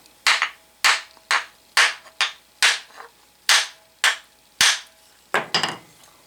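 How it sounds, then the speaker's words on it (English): Repeated sharp taps of a plastic hammer striking a sand foundry core box, about a dozen blows in an uneven rhythm, close and fairly loud with no talking. "So I take a plastic hammer"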